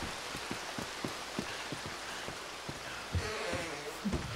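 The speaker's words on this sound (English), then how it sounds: "Get me out of the rain!" Steady rain in the video game Red Dead Redemption 2 patters densely on a surface, with scattered sharper drops standing out over the constant wash.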